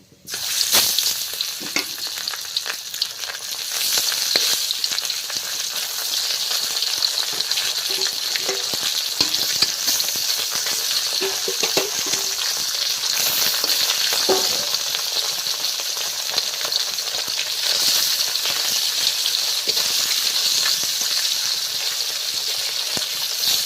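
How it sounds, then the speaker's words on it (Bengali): Large tilapia fish frying in hot oil, a loud, steady crackling sizzle that runs without a break for the whole stretch, with faint scattered pops and no voices. "মাছগুলো লাল লাল করে ভেজে নিয়েছি, এবার তুলে নিচ্ছি"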